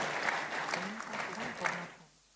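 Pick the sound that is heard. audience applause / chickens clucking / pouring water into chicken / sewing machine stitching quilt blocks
audience applause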